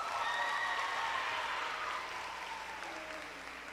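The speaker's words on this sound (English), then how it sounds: "please join me in giving a round of applause" Sustained applause from an audience at an 8th grade graduation ceremony, a steady wash of many hands clapping at moderate distance, slowly fading slightly toward the end.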